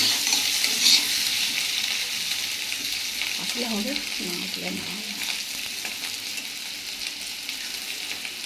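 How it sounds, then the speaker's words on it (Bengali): Potatoes fry in oil in a wok, giving a steady close sizzle with stirring noises throughout and a few brief spoken words over it. "আর এখন আমি ভাজছি আলুটা"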